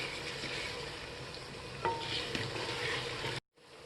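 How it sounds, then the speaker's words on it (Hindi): Ginger garlic paste fries in a pan with chopped and dried red chilies for veg pulao, giving a steady close sizzle with a couple of stirring scrapes and a brief silent break near the end. "और ये अदरक लहसुन का पेस्ट को अब इसका कच्चापन जाने तक हम इसको पका लेंगे"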